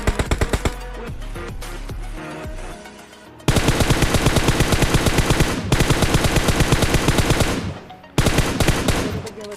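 Sustained rapid automatic gunfire, loud and relentless, in long continuous bursts with brief pauses, sounding like game weapons firing.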